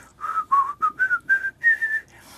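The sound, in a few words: person whistling during a folk song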